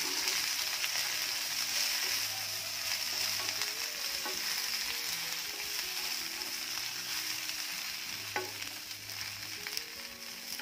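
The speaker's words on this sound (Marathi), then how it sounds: "तेल चांगलं गरम झालं की यामध्ये जी भेंडी आहे ती घालायची" Okra frying in hot oil for bhendi bhaji, a steady bright sizzle with occasional soft stirring knocks, close and without talk.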